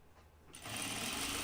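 Sewing machine running a seam on a flight suit garment, starting after a quiet moment and then whirring steadily and close for about a second.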